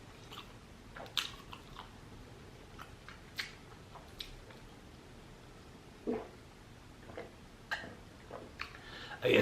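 Fried shrimp chewed close to the mic at a seafood mukbang, soft irregular crunches and wet bites scattered over several seconds, quiet overall with occasional sharper clicks.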